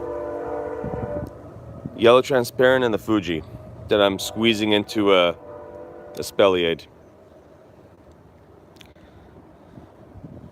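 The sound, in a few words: passing train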